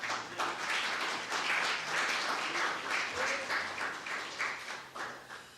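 A church congregation at a worship service applauds, with rhythmic, fairly faint clapping that rises and falls in waves from start to finish.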